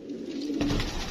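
Pigeons coo from a collection of fancy breeds, one soft low coo drawn out close by over a faint ambient background.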